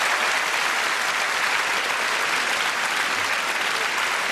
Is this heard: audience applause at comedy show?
yes